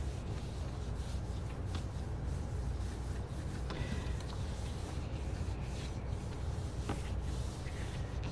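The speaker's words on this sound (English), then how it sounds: "I'm really rubbing this because this is a cleanup print" Steady, continuous rubbing of paper pressed over a stencil to pick up leftover paint for a cleanup print: a close, dry scuffing texture with faint scratchy strokes throughout and no voice.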